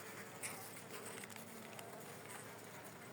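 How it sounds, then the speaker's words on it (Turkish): A faint, steady hum of many honeybees buzzing together in a hive fills the background, a dense continuous drone with no talking. "Bakın arkaya kadar arı var."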